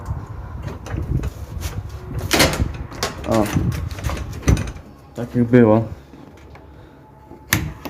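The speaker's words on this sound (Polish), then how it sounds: "Zamykamy za sobą piwnicę." An uneven basement door in an abandoned house, hanging crooked on its hinges, is lifted and pushed shut with creaking squeals, scrapes and sharp knocks, while people talk nearby.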